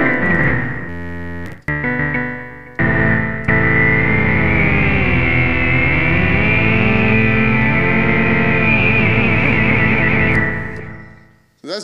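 An Eigenharp synthesizer plays thick four-voice polyphonic chords with sine, saw and triangle waveforms, loud and sustained with effects-laden distortion and echo, after a few short opening notes.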